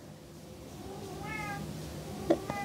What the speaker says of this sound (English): if you can hear my cat crying outside the door.